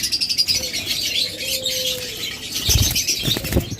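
Small albino Fischer's lovebirds flutter their wings in a cage in short bursts close by, with soft chirps and a thin whistled call mixed in.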